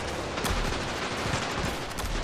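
Repeated gunfire in the video game Ravenfield during a Roman assault on a barbarian castle, with the Winchester rifle in use: dense, loud battle noise with several sharp shot bursts, continuous and without talk.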